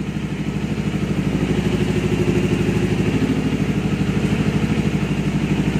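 A Kawasaki Ninja 400 motorcycle engine runs at high RPM while warming up during service, producing a loud, steady, pulsing drone with a fast, even firing rhythm throughout.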